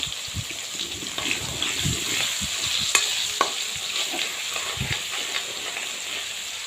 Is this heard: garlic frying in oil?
yes